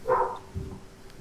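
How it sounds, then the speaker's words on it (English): A single short dog bark or yip at moderate distance from an aging pet dog indoors, followed by faint low rustling, with no talk over it. "I hear a dog."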